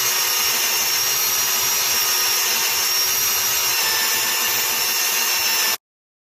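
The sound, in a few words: lapping BMW motorcycle triple clamp with lapping compound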